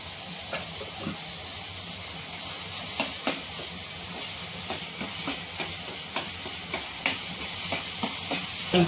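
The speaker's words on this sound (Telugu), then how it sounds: "దీన్ని బాగా ఫ్రై చేసుకోవాలి ఫ్రెండ్స్" Brinjal fries in hot oil for pickle, a steady sizzle with repeated scraping stir clicks and ladle knocks spread through, no voices.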